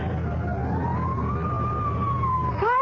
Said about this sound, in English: Fire engine?